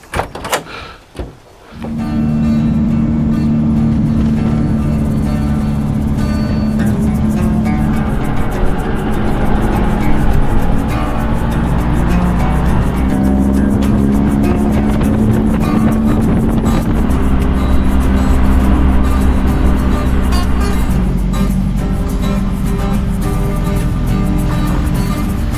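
A VW Beetle Baja Bug off-road overland build drives through mud, its engine droning loud and steady close by after a brief start, with rattling and splashing texture throughout.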